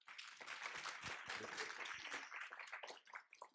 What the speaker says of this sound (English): let's give a round of applause to Andrew Cates and Cassie Tinsmon